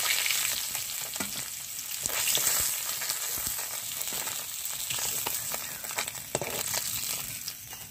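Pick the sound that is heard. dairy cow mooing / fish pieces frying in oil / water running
fish pieces frying in oil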